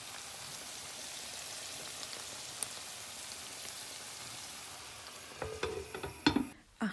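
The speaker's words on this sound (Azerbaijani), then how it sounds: "kartof və toyuğun bu dibini kiçik hissələrə bölüb qızardıram" Small pieces of potato and chicken fry in a pan with a continuous rain-like sizzle, joined near the end by scraping and clattering from stirring.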